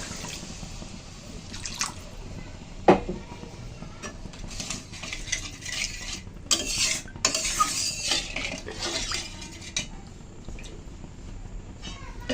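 Water is poured into cooked masala in a pan for a begun bhapa (steamed eggplant) curry, with splashing, dripping and clinking spoon-against-pan stirring sounds, fairly quiet and close.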